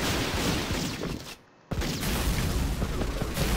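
Gatling cannon fire in the video game Rengoku: The Tower of Purgatory, a loud, continuous rapid barrage of booming shots that cuts out briefly, then resumes just as dense.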